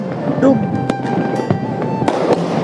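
Firecrackers going off outdoors: several sharp, loud bangs at irregular intervals over a busy background, with people talking nearby.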